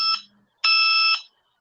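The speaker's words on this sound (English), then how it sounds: "that noise must be like an alarm" Electronic alarm heard over a screen-sharing chat: a short high-pitched tonal beep, a pause, then a longer steady piercing beep of about half a second, loud and clear with no talk over it.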